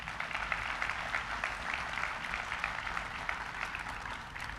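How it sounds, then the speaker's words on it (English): A graduation commencement audience applauds, a faint, steady wash of many hands clapping that continues evenly for several seconds. "Let's give them a round of applause."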